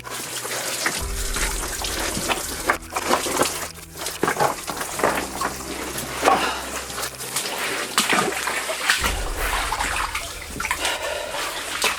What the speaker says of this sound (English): There's loads of water coming through here, Gary.